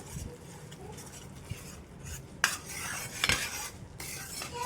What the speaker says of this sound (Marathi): आता व्यवस्थित एका डायरेक्शनमध्ये फिरवत आपण हे सगळं एकजीव करून घेऊया